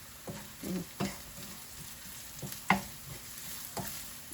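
Raw mango and grated coconut sauté in a pan, a faint sizzle broken by intermittent scraping stirs and soft knocks of a spoon, close and quiet with no talking.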